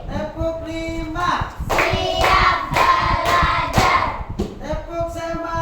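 Rhythmic group hand clapping in a counted clap chant at an Islamic gathering, repeated clap bursts in even rhythm under chanting voices.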